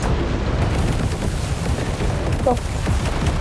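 Missiles exploding in the robot combat game War Robots: Frontiers, a dense continuous barrage of low booms and rumbling blasts that stays loud throughout with no pauses.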